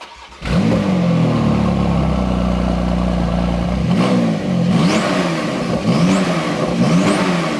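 A 3.8-litre twin-turbo flat-six supercar engine cold-starts with a loud crank and bark, holds a high, steady fast idle, then settles into rising and falling revs. The engine is close and there is no talk.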